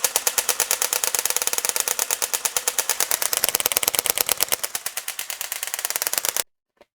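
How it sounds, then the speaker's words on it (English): Apexinno haptic gun stocks for the Quest 3 fire in full auto mode, two stocks together, making a loud, rapid, steady mechanical rattle of clicks that runs without a break for about six seconds and then stops abruptly. "Since you have 2 gun stocks, might as well put them both in full auto mode."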